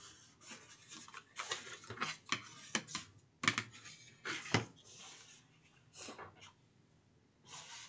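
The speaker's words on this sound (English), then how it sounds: "So now I'm going to go ahead and fold and burnish my sides." A cardboard briefcase has its sides folded and burnished by hand, giving a close, quiet series of crisp creasing, rubbing and tapping sounds in irregular bursts with no one talking.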